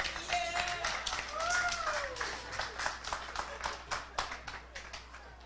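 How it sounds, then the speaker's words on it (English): Applause from a live magic show audience, a scattered round of clapping with some voices mixed in, moderately loud and thinning out toward the end. "A round of applause for Linda."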